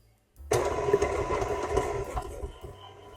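A stand mixer fitted with a paddle attachment starts abruptly and runs with a steady whirring motor hum and faint rattling, then winds down near the end, close and moderately loud.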